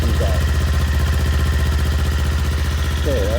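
A stock-exhaust motorcycle engine idles steadily with a mellow, even low rumble throughout, loud and close, with no revving.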